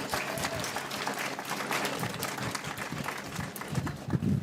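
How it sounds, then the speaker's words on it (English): A crowd applauds the contestants at the close of a 2023 Rice Festival beauty pageant, producing a continuous, fairly loud wash of clapping with a few louder thumps near the end. "Let's give these girls a big round of applause."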